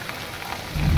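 Monsoon-season rain falls steadily in a rural Odisha village, a soft continuous patter that swells louder with a heavier low rumble near the end.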